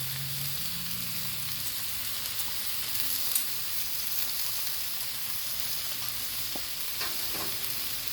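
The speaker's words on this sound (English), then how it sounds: "Now this chicken over here, I'm still going to let it cook for a little while" Chicken frying on a Blackstone flat-top griddle, a steady close sizzle running evenly throughout with a few faint clicks and scrapes, no voices.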